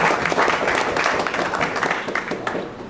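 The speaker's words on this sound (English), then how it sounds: "Let's give everybody a round of applause" An audience at a Critical Caribbean symposium applauds the people at the head table, a steady, fairly loud burst of clapping that tapers off after about three seconds.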